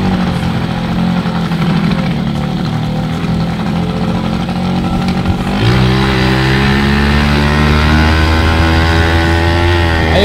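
A Yamaha Chappy moped engine with a freshly cleaned carburettor catches about halfway through and runs with a steady buzzing idle and loud, rising revs.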